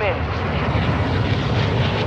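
A helicopter in a video game drones steadily and loudly up close, a continuous engine and rotor roar with no breaks, while voices talk faintly underneath.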